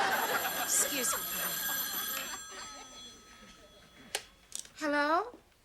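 A telephone bell rings in a sitcom home scene, with the ring appearing in a few bright bursts near the end while people talk and laugh underneath.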